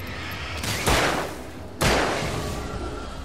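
Two heavy booming gunshots fired upward in the video game Alan Wake on Xbox 360, about a second apart, each with a long rolling echo, over a steady background hum.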